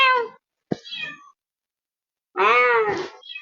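A pet cat meowing up close, three distinct meows with pauses between, the last one long and drawn-out, in a quiet room.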